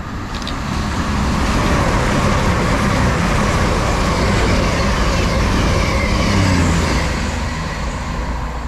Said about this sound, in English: passing through now, we've got a cross-country service to Reading from Manchester Piccadilly